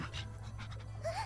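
Quick, rhythmic panting from a small dog in a League of Legends Lunar Beast 2021 animation, close and fairly soft over a low steady music bed, with a brief whine-like tone near the end.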